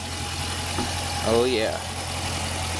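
A 6.4 liter Hemi SRT V8 in a 2015 Dodge Challenger R/T Scat Pack idles with a steady low rumble close by, while someone briefly speaks over it.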